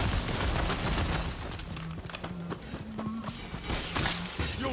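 Gunshots crack in a fight in Rise of the Ronin, a rapid fusillade of close, loud reports over a busy game soundtrack, with tonal musical notes and scuffling movement underneath.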